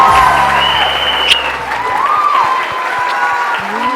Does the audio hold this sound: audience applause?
yes